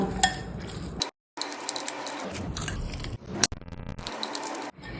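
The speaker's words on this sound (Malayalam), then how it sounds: "ഇനി ഇതെല്ലാം ഒന്ന് നമുക്ക് മിക്സ് ചെയ്തിട്ട് എടുക്കാം." A spoon mixes chopped vegetables and crushed pepper in a bowl for a wheat bread sandwich, giving close, repeated scraping and clinking strokes broken by a couple of short pauses.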